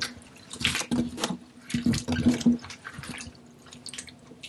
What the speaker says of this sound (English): We'll just slosh them around a little bit.